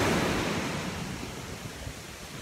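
Surf washes steadily onto the shore at Myrtle Beach at night, a broad continuous roar of breaking waves with no distinct crashes standing out and no voices.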